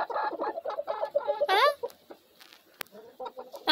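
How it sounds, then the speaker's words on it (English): Backyard pet hens cluck in a new, cozy coop, with soft rhythmic clucks and a brief squawk close by while a person talks quietly among them. "My little chickens."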